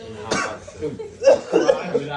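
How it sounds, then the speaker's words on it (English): At a birthday party gathering in a home garage, several people cough in a few close, uneven bursts, with voices and a bit of laughter mixed in. "The neighbors just hear everybody coughing."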